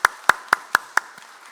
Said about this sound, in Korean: 우리 큰 박수 한번 보내도록 하겠습니다